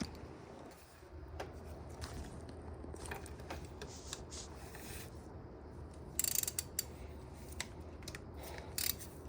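A ratchet works at engine bolts during a G37/G35 water pump job, giving close, quiet clicking and scraping in irregular bursts with a few sharper metallic snaps.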